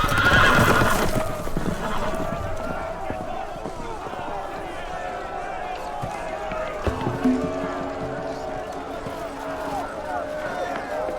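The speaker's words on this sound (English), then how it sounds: "The horses! They're loose!" Horses whinny loudly at the start, then hooves clatter and run amid a busy, noisy scene with voices calling out, in the Game of Thrones video game on Xbox Series X.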